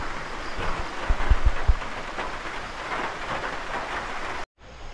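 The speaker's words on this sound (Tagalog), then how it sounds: "Umuulan pa." Steady rain hisses throughout, with a few low thumps midway, before cutting off abruptly near the end.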